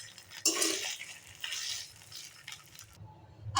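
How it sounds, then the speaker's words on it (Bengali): Vermicelli (semai) frying over a low flame in soybean oil and ghee, stirred in the pan: soft scraping strokes and light metallic clinks, faint and close, with no voices. "এবার এতে আমি সেমাইগুলো ভালো করে ভেজে নেব।"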